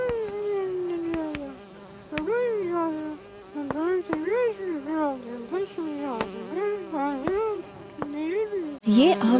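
Cartoon bees give off a warbling, wavering buzz that rises and falls in repeated swoops for several seconds. Sharp clicks are scattered through it.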